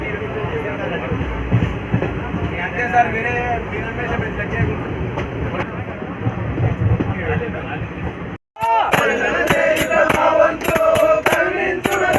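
A train rumbles and clatters along the rails at speed, skipping Medchal railway station without stopping, steady and loud, with people talking over it and a brief dropout near the end.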